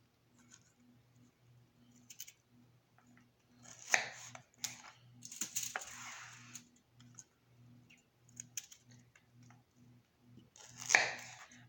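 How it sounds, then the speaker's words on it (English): A knife trims the bottoms off Brussels sprouts on a cutting board, making soft scattered cuts and a few sharper chops and clicks over a low steady hum. "You can choose to cut the bottoms off."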